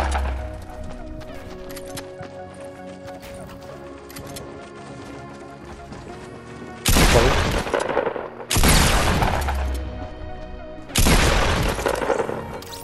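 Minigun fire rattles in Fortnite in three dense, loud bursts lasting a second or two each, with short gaps between them, following a stretch of busier mixed game noise.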